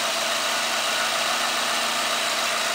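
A 2010 Ford Ranger's 2.3-liter inline four-cylinder idles steadily at close range after a cold start, with a continuous, even mechanical hum and no talking over it.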